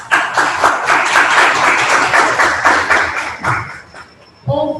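A lecture audience gives the speaker a round of applause, many hands clapping in a dense, steady, fairly loud patter that tapers off near the end before a voice briefly speaks.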